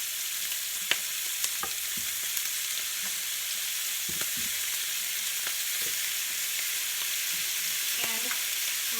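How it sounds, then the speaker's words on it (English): A whole stick of butter melts and sizzles in a hot pan before garlic goes in for garlic butter chicken thighs, a continuous soft crackling hiss with a few sharp clicks and scrapes of stirring, no talking. "So now I want to add my butter, and it's a whole stick of butter that I'm using."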